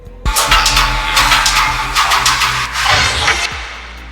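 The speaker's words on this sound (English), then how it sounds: "you'll sort of hear the reverb and the delay going on here." Electronic DJ mix tracks in Ableton layered with reverb and delay automation, giving a loud, dense wash with a booming low end and smeared echoing bursts that swell and fade over a few seconds.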